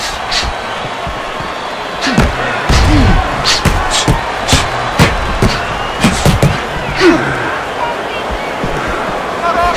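A heavyweight boxer lands a big right hand against his opponent, one of a series of sharp, separate punch impacts over a noisy arena crowd as a commentator keeps talking.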